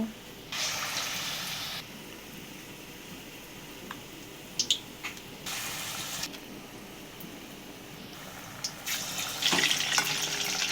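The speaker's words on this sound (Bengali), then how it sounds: "মা এখানে চাল কুমড়োটা নিয়ে খুব ভালোভাবে ব্যাটারটার মধ্যে উল্টে পাল্টে কোট করে তেলে ছেড়ে দিল" Batter-coated ash gourd pieces dropped into hot oil for malpua, giving bursts of crackling sizzle that swell and fade in several waves, with a few light clinks, close and without talk.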